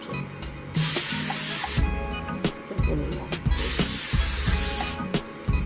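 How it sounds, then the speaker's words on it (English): Cooking spray hissing onto a pan in a home kitchen, two long loud bursts about a second apart, with clattering of utensils between and after. "now we're gonna spray a bit of pan"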